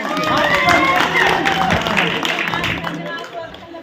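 Audience applause for Kavita Pran Lahre, MLA of Bilaigarh, at a Chhattisgarhi film event, a steady dense clapping with crowd noise that holds loud for several seconds and then thins out toward the end.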